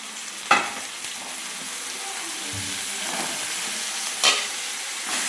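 Chicken with curry leaves and ginger paste fries in a pan for a green chicken fry, giving a steady, close sizzle broken by two sharp utensil clanks.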